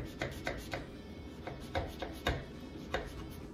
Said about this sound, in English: cut all the way through, like make nice slices before you add your butter